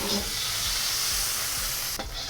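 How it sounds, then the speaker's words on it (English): Shrimp sizzling steadily in a hot pan for Shanghai lo mein, a loud, continuous frying hiss up close with faint stirring scrapes, briefly dipping near the end, no voices over it. "I'm gonna cook my shrimp until both sides are pink."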